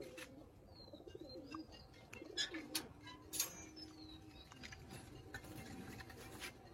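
Pigeons cooing softly in a quiet setting, low faint coos mixed with a few thin chirps and light pattering sounds.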